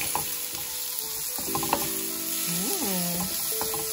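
Onion sauteing with garlic in a pan for a sardine and cabbage curry, a continuous close sizzle with light stirring scrapes and a few ringing, squeaky tones partway through.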